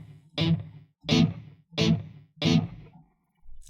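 Four short bursts of distorted electric guitar, evenly spaced with brief gaps, each a punchy chord that cuts off quickly, followed by silence.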